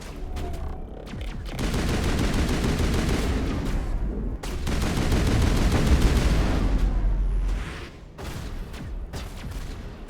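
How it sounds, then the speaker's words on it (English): A hacked rocket trooper in Mass Effect fires regular bullets, rapid sustained gunfire in long bursts, loud and close, with brief pauses between volleys. "The rocket trooper does not shoot rockets when they are hacked. He's just shooting regular bullets."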